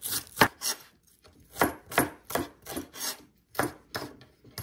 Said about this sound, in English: Cut 100 grams of cabbage into thin strips.